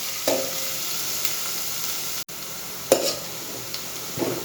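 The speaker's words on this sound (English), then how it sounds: "We'll saute it till it turns translucent." Chopped onion and green onion sautéing in a pan for a tangy tomato sardine curry, a steady soft sizzle with a few sharp stirring scrapes spread through, close and alone without talk.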